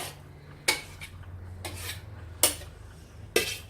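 A knife chops garlic on a board with four sharp, separate knocks spaced about a second apart, close and clear against a faint low hum, with no voices.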